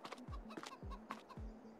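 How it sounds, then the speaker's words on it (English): Chickens cluck in Farming Simulator 22, several short low clucks repeating at a steady pace, quiet and close, with no talk over them. "We got some chickens."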